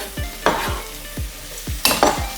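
Onions, garlic, ginger and chili fry in a pan under a soft sizzle while a spoon stirs them in a series of close, sharp scraping knocks, about six strokes in quick succession.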